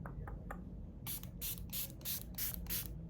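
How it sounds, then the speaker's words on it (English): Makeup setting spray misted onto a face in a series of about six short, close pump bursts, each a soft airy hiss, following a couple of fainter taps. "Spray your face with setting spray."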